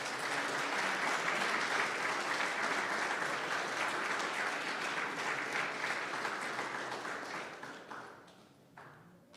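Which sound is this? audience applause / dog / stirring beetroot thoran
audience applause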